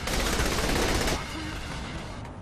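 Assault rifle fire in Saints Row The Third comes as a dense rapid burst of gunshots for about a second, then cuts off into a quieter decaying echo and ambient game noise.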